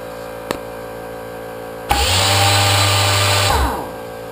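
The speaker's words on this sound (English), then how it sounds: "this is now only running off of my air compressor" An air tool powered by an air compressor starts with a brief click, then runs with a loud steady whine and hiss for about a second and a half before spinning down.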